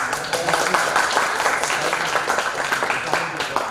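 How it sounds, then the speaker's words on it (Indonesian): Audience applause during an Indonesian session on meeting procedure, with brisk, fairly close clapping throughout and voices talking underneath. "Tepuk tangan."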